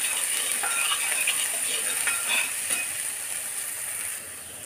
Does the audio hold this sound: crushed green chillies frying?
yes